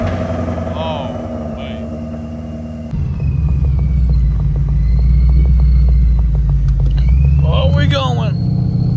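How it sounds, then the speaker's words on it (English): A Ford Mustang engine turns over partway through and settles into a deep, steady rumbling idle, close and loud. Voices speak briefly over the engine. "we're gonna fire up the Mustang"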